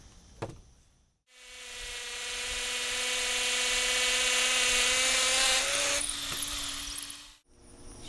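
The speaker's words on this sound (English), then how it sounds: "Then you'll need a drill with the hammer feature," A hammer drill bores a hole in concrete for a tapcon screw, a steady loud whine with rapid hammering that runs about six seconds, dips briefly near the end, then stops abruptly.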